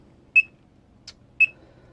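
A PSU tester gives two sharp, high electronic beeps about a second apart, with a faint click between them, over near silence.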